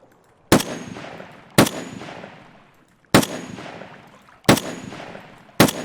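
Five loud, sharp shots in Escape from Tarkov, spaced about a second or more apart, each ending in a long echoing decay across open ground.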